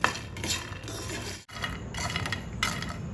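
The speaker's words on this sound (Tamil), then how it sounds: "கொஞ்சமாக உப்பும் கொஞ்சமாக பெப்பர் பவுடரும் தூவி நல்லா மிக்ஸ் பண்ணி எடுத்துக்கலாம்" Roasted makhana tossed with salt and pepper powder in a pan: close, continuous rattling and scraping of a spoon stirring the dry puffs, with a brief pause midway.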